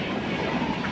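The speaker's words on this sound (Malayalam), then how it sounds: "എൻ്റെ ബാക്കിൽ നിന്ന് ട്രെയിൻ വരുന്നുണ്ട് കേട്ടോ." Train approaching from behind on the railway line at Mayyanad village station, a steady broadband rumble of rolling wheels with a clickety-clack texture, loud and continuous.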